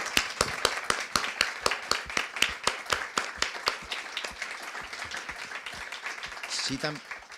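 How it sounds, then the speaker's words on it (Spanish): Audience members at a supercomputing event in Europe clap in distinct, evenly spaced claps that thin out, ending with a brief voice nearby. "un fuerte aplauso a los tres antes de acabar de finalizar"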